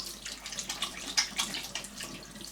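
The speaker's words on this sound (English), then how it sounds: "let's give my hands a quick rinse" Tap water running over hands being rinsed at a sink, a soft continuous splashing with uneven spatters and small surges, fairly quiet and close, with no talking.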